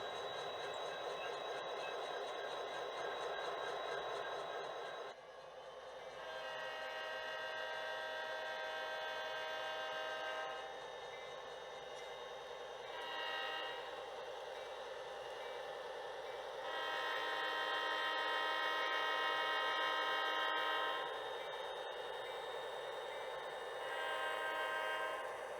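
An HO scale model train rumbles toward a grade crossing, sounding repeated horn blasts of varying length over a steady mechanical hum, fairly faint throughout.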